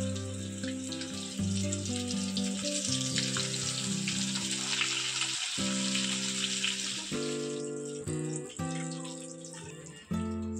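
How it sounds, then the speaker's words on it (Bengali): Chicken leg pieces frying in hot oil, a steady close sizzle with bubbling crackle running throughout, alongside tonal kitchen background sounds. "একইভাবে বাকি চিকেনগুলো আমি ফ্রাই করে নেব।"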